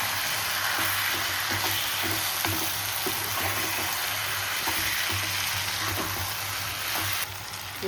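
Chicken with salt and masala sizzling in a pan while being stirred, a steady loud frying hiss with soft scraping strokes of the spoon repeating throughout, no voices.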